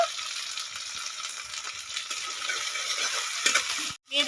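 Ground mustard and onion spice paste fries in a pan with already-fried onions for a silver carp fish dish, giving a steady close sizzle with small crackles and stirring scrapes, briefly cut off near the end.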